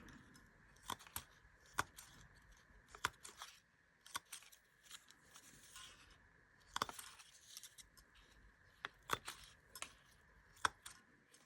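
Scissors snip through paper pieces for an altered book, a series of sharp close clicks and cuts spaced irregularly, with quieter handling and rustling between them and no talk.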